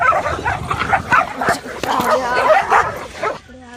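A dog barks and yips in short uneven bursts, fairly close, mixed with people talking and rustling around it before the sounds fade out.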